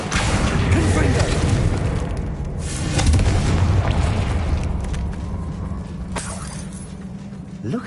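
Confringo blasting spell explosions in Hogwarts Legacy, booming bursts with shattering debris over a dense, loud rumbling game soundscape.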